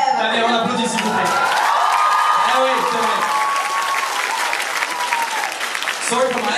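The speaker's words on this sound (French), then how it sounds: "Daniel, allez, on applaudit s'il vous plaît." An audience applauds actor Daniel with sustained clapping and a few cheers, while voices speak over the applause throughout.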